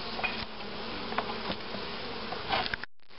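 Honeybees at an opened hive during a colony check before winter, a dense, continuous close buzz with a few sharp clicks, cutting off abruptly near the end.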